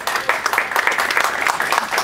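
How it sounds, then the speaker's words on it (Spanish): Audience applause at a legal forum event, a steady dense patter of clapping lasting throughout, moderately loud and fairly close. "Un aplauso, por favor."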